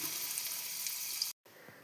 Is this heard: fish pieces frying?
yes